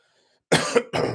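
Two or three harsh coughs close up, one right after another with a brief gap, after half a second of silence.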